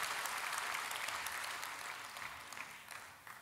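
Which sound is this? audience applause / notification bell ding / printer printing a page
audience applause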